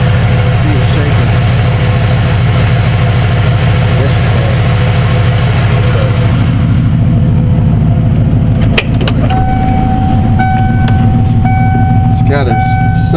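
The engine of a 1995 Ford F-150 barn find, said to stumble on light acceleration, runs close and loud with a constant low rumble. A few sharp clicks and a faint tone appear in the later part.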